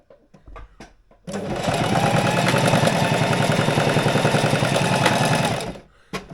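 A sewing machine with heavy-duty polyester thread stitches through PVC, running loud and steady for about five seconds with a rapid mechanical chatter, after a few light clicks and before stopping abruptly.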